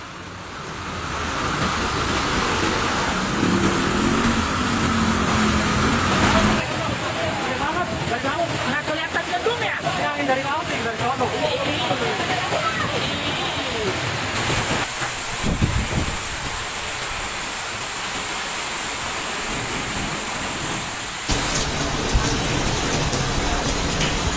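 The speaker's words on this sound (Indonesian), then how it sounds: "potensi hujan lebat disertai angin kencang yang dapat terjadi tiba-tiba di wilayah Jakarta dan sekitarnya" Heavy rain and strong wind lash Jakarta during an extreme afternoon storm, a steady loud broadband roar of downpour and gusts running throughout with little letup.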